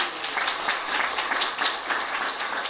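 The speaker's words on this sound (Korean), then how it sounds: "박수 한번 부탁합니다." A crowd at a campaign volunteer launch event claps in a dense, even burst, moderately loud and continuous with no speech over it.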